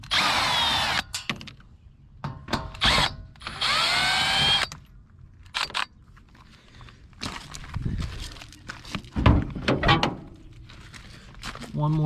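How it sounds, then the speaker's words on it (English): A power drill whirs in several short bursts while removing trim screws from an abandoned 1953 Plymouth Cranbrook, with clanks, handling noise and footsteps between the runs and a voice speaking nearby. "let's go ahead and see if we can get these screws off this trim here"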